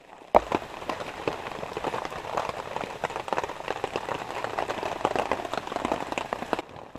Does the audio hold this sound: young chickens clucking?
no